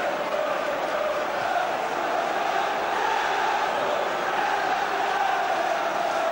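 Football stadium crowd of Norwich City supporters at a 1990 match against Liverpool, a dense, steady roar of thousands of voices cheering and chanting throughout, loud and continuous with no break.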